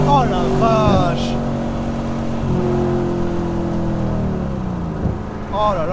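A V6 engine revs hard and then settles into a steady drone, with a shorter rev near the end; no talking.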